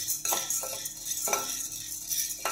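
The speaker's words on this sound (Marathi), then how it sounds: "आता आपण भाजून घेऊयात हरभरा डाळ।" Chana dal dry roasting in a pan, stirred with a spoon that scrapes and clinks in soft, irregular strokes, quiet and close with no talk.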